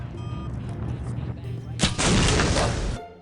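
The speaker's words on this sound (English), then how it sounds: "Kaboom! Took out a rocket with a crossbow." Crossbow bolt striking a rocket in the video game Postal 2, setting off a loud explosion: a low rumble of background game noise gives way to a sudden broadband blast that roars for about a second before cutting off.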